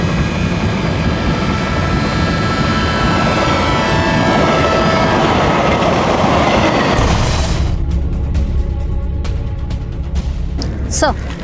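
A train runs along a railway track with a loud, steady rumbling roar. It cuts off sharply, and faint clicks and a voice follow.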